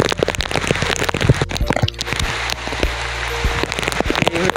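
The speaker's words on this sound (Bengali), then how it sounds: "প্রচণ্ড বর্ষা হচ্ছে দেখো, প্রচণ্ড জল সরছে এই" Heavy rain pours onto a garden with okra and taro plants and standing water, a dense loud patter of drops with sharp splashes and crackles, recorded close with no talk.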